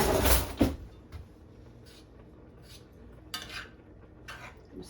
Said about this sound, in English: Stir our green beans up in it